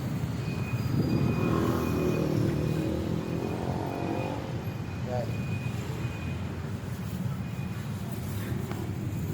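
Congested car traffic on a road in Angeles makes a dense, steady rumble of idling and crawling engines close by, with people talking over it.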